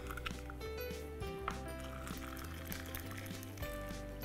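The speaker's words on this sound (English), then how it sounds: "Pour your drink in there. And then top it off with some club soda." Club soda pours into a highball glass over a bourbon cocktail, a continuous fizzing, trickling stream with small splashy bursts, close and fairly quiet throughout.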